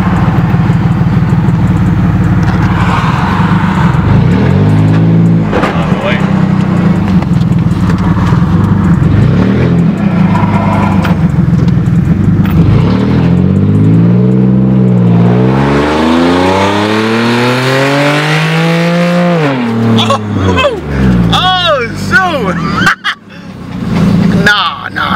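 An Infiniti G37 on very low, stiff Swift springs drives and accelerates on the road, its engine droning loudly and rising in pitch through several long revving climbs, heard from inside with some talk.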